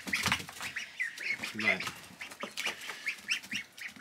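Meat ducks quack and chatter in a busy, close flock on a farm, with a brief spoken word mixed in.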